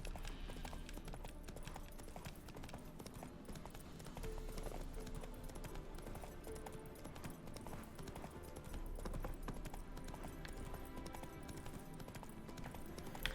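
A horse's hooves beat in a steady, unbroken rhythm during a ride in The Witcher 3: Wild Hunt – Hearts of Stone, fairly faint and set against a dense bed of game ambience.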